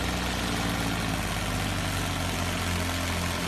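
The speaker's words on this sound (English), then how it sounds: "they've just added another tractor." Arjun tractor engine in Punjab labouring under an overloaded trailer, a steady loud low rumble with constant vibration and no pauses, running throughout.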